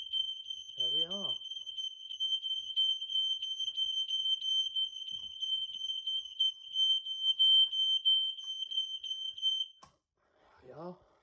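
A shrill, continuous electronic alarm tone from an Ei166RC smoke alarm set off by smoke sounds steadily for about ten seconds, then cuts off abruptly; a voice speaks briefly before it starts and right after it stops.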